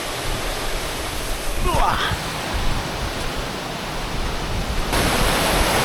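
Creek water rushes steadily as a person wades barefoot across it on a mountain outing, a broad continuous wash with brief splashy disturbance midway.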